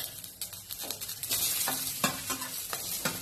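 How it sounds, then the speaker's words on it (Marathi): Sliced onion hits roasted chillies in a hot kadhai, with a continuous sizzle and repeated scraping stirs of a spatula knocking against the pan in an irregular rhythm, close and fairly quiet, with no talking. "आता यात आपण ऍड करूया कांदा।"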